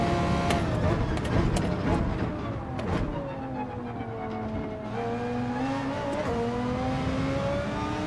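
Race car engine in Gran Turismo 7, a loud steady engine drone that rises and dips in pitch as the throttle lifts and reapplies, with faint tyre noise beneath.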